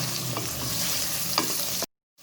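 Mutton pieces fry and sizzle in a pan while a utensil stirs them, a steady close hiss with a few sharp scraping knocks, then the sound cuts off abruptly.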